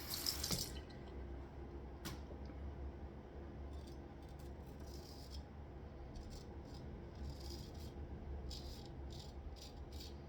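A tap runs steadily at low level, with water splashing as something is rinsed under it, with a rattle at the start and faint clinks throughout.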